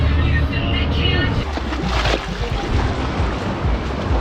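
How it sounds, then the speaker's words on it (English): A water taxi speeds toward Butterfly Valley near Fethiye, its engine a steady rushing roar mixed with splashing water and wind, loud and close throughout, with a brief surge of spray near the middle. "A bit wet in the water taxi, but that makes it more fun."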